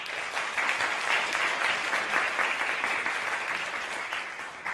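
A rally crowd claps steadily and loudly in a dense, sustained round of applause with no voices over it.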